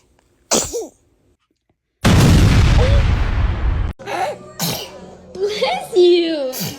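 A baby's small sneezes and sniffly breaths come in short, separate bursts, close and fairly loud, with a burst of broadband noise partway through.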